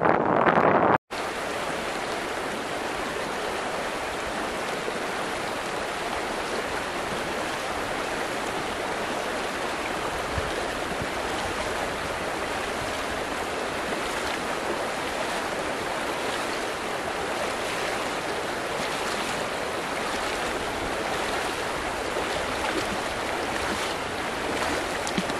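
River rushing past a crossing point in a wild valley: a dense, steady roar of flowing water, close and constant throughout, with no voices.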